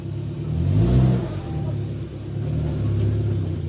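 A VAZ 2106 car engine with a new carburetor revs up and settles, a close mid-pitched rumble that swells, dips and rises again, with no talking over it.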